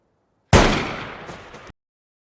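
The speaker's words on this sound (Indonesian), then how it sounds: "Tembakan bergema, dan hewan buruannya roboh." A single loud, close rifle shot during a deer hunt in a film, with a sharp report that rolls into a reverberating echo for about a second before cutting off.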